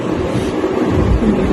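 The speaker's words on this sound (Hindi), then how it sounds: "आज बारिश ही बारिश थी" Heavy monsoon rain falls in Lahore during flooding, a loud, dense, steady roar with low rumbling undertones and no voices.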